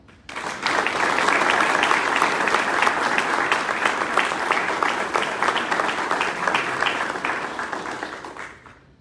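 An audience applauds to welcome student speaker Nicole Livingston at Elizabethtown Community and Technical College, a dense, loud burst of many hands clapping that swells quickly and holds steady for several seconds before fading.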